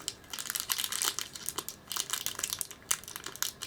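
Crinkly plastic packaging crumples and tears as a Nihonbox Peko-chan figure is unwrapped, with close, continuous rustling in irregular bursts and brief louder crackles.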